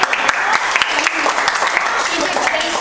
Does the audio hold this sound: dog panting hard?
no